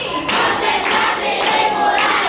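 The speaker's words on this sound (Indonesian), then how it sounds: "Tepuk tangan untuk kalian." A group in a classroom applauds, a dense, even patter of hand claps lasting about two seconds at close range.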